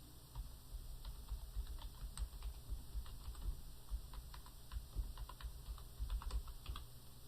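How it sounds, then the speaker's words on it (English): Fingers type steadily on a computer keyboard, with quiet, rapid key clicks in an irregular rhythm over low background hum and no talking. "I'll just type in a description"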